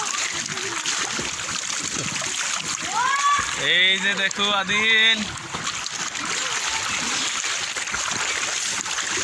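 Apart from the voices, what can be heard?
water splashing as father and son swim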